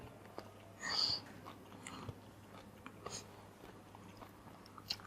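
Biting and chewing on cup noodles during a noodle-eating challenge, a brief crunchy bite near the start followed by faint, intermittent chewing sounds with little else around.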